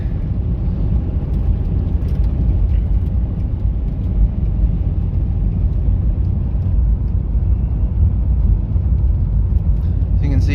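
Oldsmobile diesel car with a rear differential issue driving over rocky ground, a steady loud low rumble and road noise filling the cabin from start to finish.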